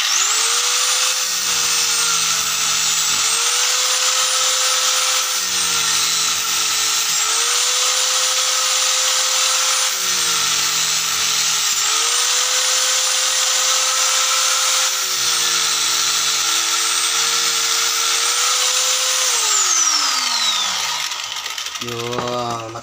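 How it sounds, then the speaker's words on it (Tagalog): An angle grinder cuts through a stuck rusty screw on a Fujidenzo washing machine, its high whine loud and steady, dipping in pitch each time the disc bites into the metal before spinning down at the end. "Yung gagamit na lang yung grinder. Tatabasin ko na lang to para"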